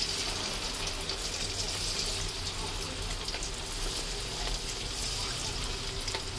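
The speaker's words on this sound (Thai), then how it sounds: "น้ำมันเริ่มร้อนนะครับเราค่อยๆเอาตัวหนังไก่นะครับลงได้เลยนะครับ" Steady loud sizzling and crackling of battered chicken skin frying in hot oil in a pan, continuous throughout with no pauses.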